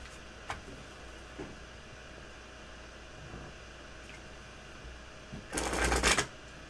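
Tarot cards are shuffled in a short, loud riffle near the end, following a few faint taps in an otherwise quiet room.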